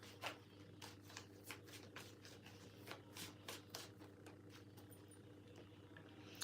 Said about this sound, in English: Gonna give me a chance to shuffle them.